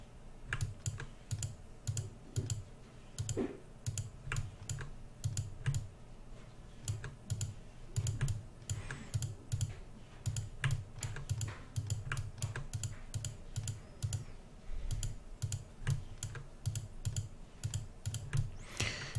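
Computer keyboard keys and mouse buttons clicked rapidly while building a game environment in an editor, a dense, steady run of close, crisp taps and clicks with no voices.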